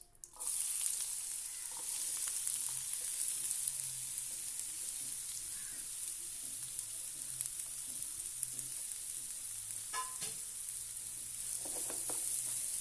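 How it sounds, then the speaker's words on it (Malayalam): Chopped onions sizzle steadily in hot oil over a medium flame, a continuous close frying hiss with a few soft stirring knocks and scrapes near the end. "മീഡിയം ഫ്ലെയിമിൽ വെച്ചിട്ട് വഴറ്റിയെടുക്കാം."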